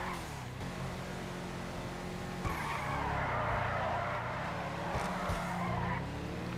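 Car tires squeal and skid while drifting a Fathom FR36 coupe in GTA 5 Online, a sustained screech over a steady engine drone, swelling midway and then easing off, with no voices.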